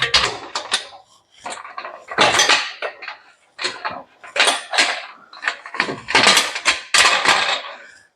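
Metal pressure canner lid fitted and side screws handled, a series of close clanks, scrapes and rattles of metal on metal in irregular bursts, with no talk.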